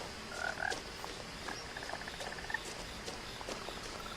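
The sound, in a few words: frog croaking in What Remains of Edith Finch video game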